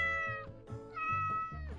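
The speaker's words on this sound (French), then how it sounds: "Les gars, je miaule et tout" A cat meowing in a video game, several drawn-out tonal meows in quick succession, loud and close with no talk over them.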